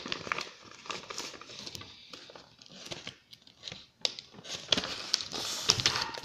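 A small pink plastic packet crinkles and rustles in short, irregular bursts while being opened up close, the crackling sharp and quiet with brief pauses between handlings.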